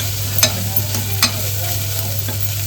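Spice masala and turmeric sizzling in hot tempering oil in an Indian kitchen, a steady loud frying crackle with a low hum beneath and a few sharper spatters, no talking.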